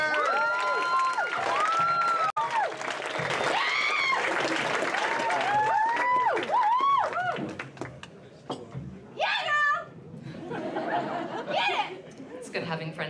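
A comedy club audience claps and cheers as a comedian is introduced, with applause swelling loudly, chuckles and chatter mixed in, and a voice speaking over the crowd as it settles.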